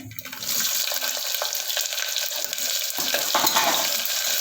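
Two medium onions frying in hot oil in a pan for plain kushka biryani, a loud, dense sizzle starting after a brief quieter moment and holding steady, with occasional stirring scrapes and no talking.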